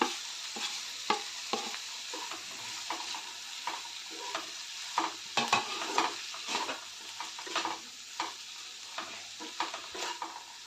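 Frozen peas tipped into frying vegetables for aloo matar pulao and stirred, with repeated scraping strokes over a soft sizzle in a quiet kitchen.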